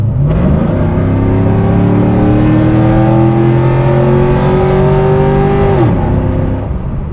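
A 2001 Pontiac Formula Firehawk revs up steadily through a full-length 3-inch aftermarket Corsa exhaust, the throaty note climbing in pitch for several seconds before dropping off abruptly, loud and close.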